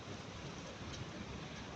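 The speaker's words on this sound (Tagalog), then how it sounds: "Napakalakas ng ulan" Heavy rain pours down in Hong Kong, a dense, steady broadband hiss with no pauses, close and constant throughout.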